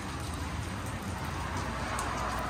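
Steady rain falling outdoors in Spain, a dense, even hiss of drops on surfaces that holds at a constant level from start to finish, with no voices over it.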